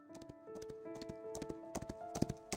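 Horse hooves clip-clop in the video game Love and Deepspace, with irregular taps and thuds over a steady tonal background hum, close and moderately loud across the whole stretch.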